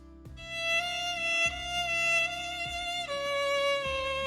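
A bowed violin plays a short melody of sustained notes, clear and close, with a few note changes and no other sounds.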